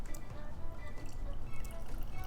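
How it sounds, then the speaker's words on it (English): A home-aged Jamaica and Trinidad rum blend pours into a glass, giving a close, steady liquid trickle with small drips and splashes and no talk over it. "Let me pour some in here"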